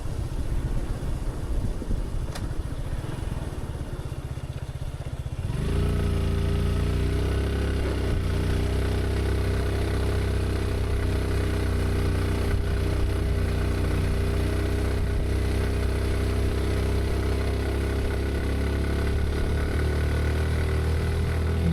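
A motorcycle labouring up a steep, difficult mountain trail on the Keokaradong–Sungsang Para route, its engine note low and steady at close range after an initial stretch of rough, scuffling noise.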